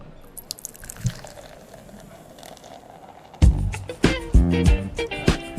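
Oatmeal stout from Slow Elk poured out of a bottle into a glass: a few seconds of near quiet, then loud, close glugging and splashing bursts as the thick beer gushes and foams unevenly.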